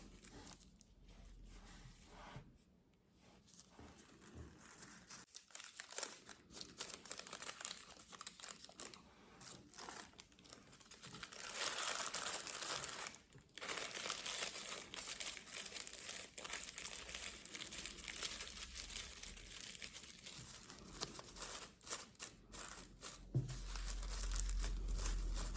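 A package wrapper is opened, probably around Sardinian sweets, with close, soft crinkling and rustling of plastic or paper that carries on in uneven bursts for about twenty-five seconds, fairly quiet throughout.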